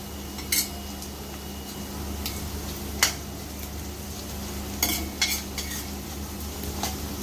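Cashew nuts frying in a pan as a village-style country chicken curry is cooked, with a spoon scraping and clinking against the metal at irregular intervals over a steady low sizzle.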